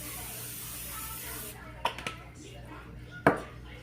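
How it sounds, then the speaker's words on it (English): Cooking spray hisses onto a warming pan in a steady stream for about a second and a half, then several sharp knocks and clatters of pans follow close by. "I'm going to use some pan spray and spray my pan"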